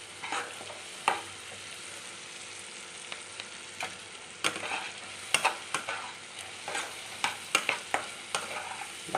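Spice paste fries in oil while it is worked around the pan, heard as a steady sizzle broken by repeated sharp scrapes and knocks of the spatula. The scraping grows busier toward the end, and no one speaks.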